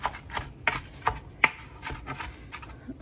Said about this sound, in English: you just keep going like this, back and forth, until you get it the exact size that you would like your diced onions